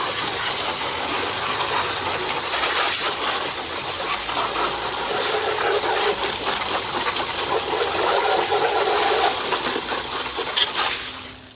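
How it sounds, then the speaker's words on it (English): A garden hose cleaning out a window air conditioner: a loud, steady rush of spraying water hisses against the metal fins, continuous for several seconds with slight surges, close by. "even if you just hose it all out"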